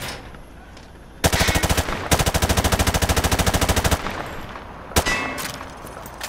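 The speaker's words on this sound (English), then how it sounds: "Grab that weapon off the table and fire at the targets behind you." Machine gun fired at targets in Modern Warfare 2: a long loud rapid burst of evenly spaced shots with metallic ring, a short pause, then a single loud shot and a brief further burst.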